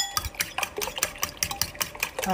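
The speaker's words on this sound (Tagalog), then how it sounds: "batiin natin ang ating 5 itlog" Five eggs being beaten in a bowl, a fast steady rhythm of utensil strokes clacking against the bowl, close and continuous with no talking.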